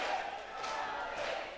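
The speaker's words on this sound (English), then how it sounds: "And listen to the crowd." Crowd at a Target Wrestling show in Carlisle, England, roaring and cheering for a hometown wrestler during a match, a dense steady wash of noise throughout.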